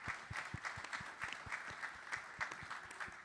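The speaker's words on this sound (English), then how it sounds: "Can you all clap it up for him?" Scattered applause from an audience at a Father's Day community event, greeting the alderman of the 5th Ward, Desmond Yancey; a few distinct claps over a thin crowd murmur, moderately distant and fairly quiet.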